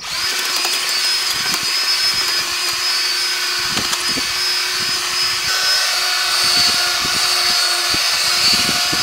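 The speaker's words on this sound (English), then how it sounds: "we're going to pre-drill on that one and slide it on to this here" A power drill whines loudly and steadily, the motor pitch holding level while bursts of grinding and knocks break in as the bit bites into a wooden railroad tie.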